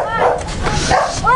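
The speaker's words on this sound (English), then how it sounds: "Your dog is noisy." A dog barks and yips close by in quick, noisy bursts at a residential home in the Philippines, with people's voices mixed in.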